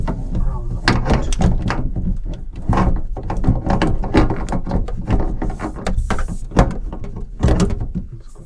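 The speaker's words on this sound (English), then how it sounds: "I'm just going to crack that off" A basin wrench grips and cracks loose the nut on a kitchen tap under a sink, giving close, loud metallic clunks, scrapes and ratcheting knocks in an irregular run.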